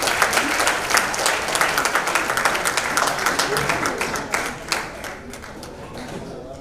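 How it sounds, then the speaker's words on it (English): Audience applause for a Renaissance singer at a book launch, a loud crowd clapping densely, then thinning and fading toward the end. "let's just give a big round of applause to this Renaissance singer"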